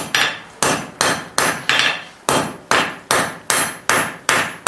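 Hot steel being upset under a hammer while forging bolt jaw tongs: about a dozen loud, ringing blows fall close by in a steady rhythm, each strike decaying quickly before the next.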